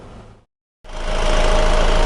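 Honda CR-V engine idling during a diesel particulate filter cleaning, a loud steady low rumble that cuts out briefly and then returns with a constant droning hum.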